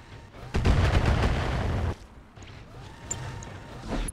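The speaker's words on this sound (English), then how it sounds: "Shoot him." Mech weapons fire and explosions in the BattleTech (RogueTech) video game: a loud sustained booming barrage of about a second and a half, then quieter rumbling with a few faint pings.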